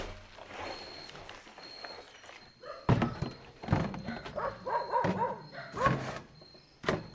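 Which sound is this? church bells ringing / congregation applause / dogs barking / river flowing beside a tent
dogs barking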